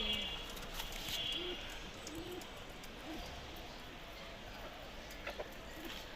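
Domestic pigeons coo softly and intermittently, faint against low background noise.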